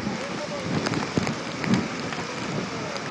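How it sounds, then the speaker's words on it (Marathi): Heavy rain falls at Dadar Chowpatty beach in Mumbai under a fully overcast sky during high tide, a steady broad wash of rainfall with a few louder thumps and some faint background voices. "पाऊस जो आहे तो अजूनही थांबलेला नाही, पावसानं उसंत घेतलेली नाही।"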